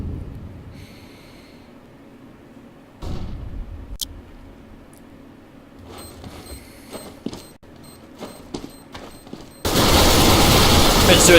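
Gunfire in a CS:GO match on de_dust2, with sparse sharp shots, then a cluster of rapid cracks from a close duel, and a sudden loud noisy burst near the end.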